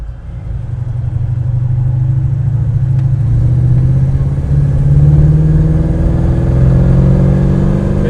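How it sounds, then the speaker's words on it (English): A 1934 street rod with dual exhaust revs up loudly and close, its engine note climbing steadily and then holding a deep, rising rumble for several seconds, with no voices. "Good sound dual exhaust."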